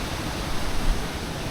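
Steady broadband roar of a waterfall heard from below in wild bush country, a constant rushing wash with no voices over it.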